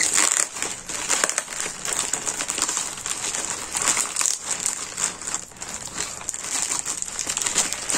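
Plastic packets holding diamond painting bottles are opened and handled, giving close, continuous crinkling and crackling of thin plastic with irregular rustles and crunches.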